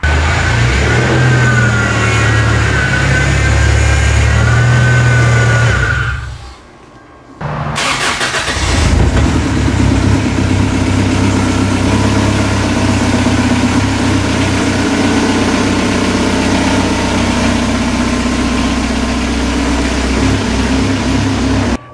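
A beater Toyota Tacoma truck being pulled into a shop: the engine runs and revs loudly, cuts out briefly, then restarts and keeps a rough, close idle with fluctuating revs.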